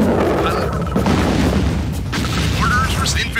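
A deep booming ion cannon blast in a real-time strategy game, heavy and sustained with rumbling low end and crackling tails, mixed with game effects.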